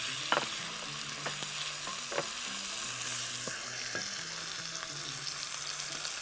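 Meat browns in hot oil in a pan for an okra and tamarind dish, giving a constant sizzle broken by sharp utensil scrapes and clacks as it is stirred at an irregular pace, close by with no talking.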